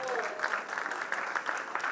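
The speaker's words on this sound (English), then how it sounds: "A big round of applause for him" Applause at a launch event for a creative space, continuous crowd clapping at moderate distance with a voice talking over it.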